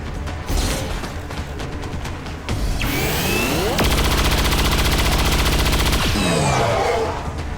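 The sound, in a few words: XCOM 2 Chain Shot rifle fire at Archon, video game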